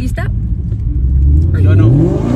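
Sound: car accelerating

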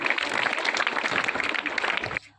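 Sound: audience applause at school talent event

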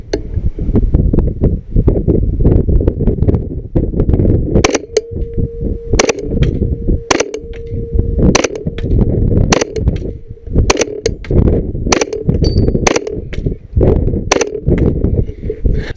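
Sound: subsonic rifle shots hitting a moving target

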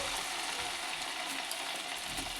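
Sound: corn vadas deep frying in oil

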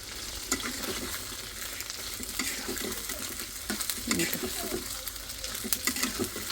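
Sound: ginger and shrimp frying together in oil

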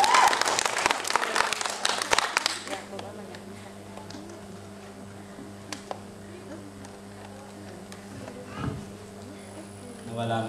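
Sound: audience applause

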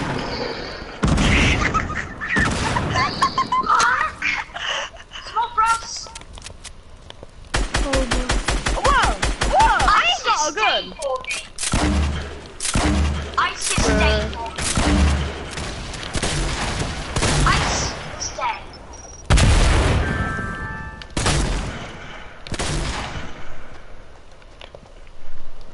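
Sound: gunfire from a video game

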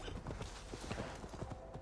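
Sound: horse hooves galloping back in Assassin's Creed Valhalla video game

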